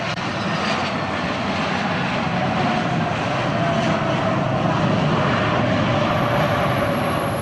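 An airplane engine roars steadily as the plane comes in to land, a loud, continuous drone that holds even for several seconds with nobody speaking.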